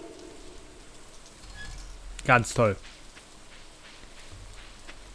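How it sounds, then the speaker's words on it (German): Soft, steady rain patters throughout a farming game scene in Stardew Valley, a low even wash under a short spoken phrase from a man. "Kommst hier wieder hin und es regnet."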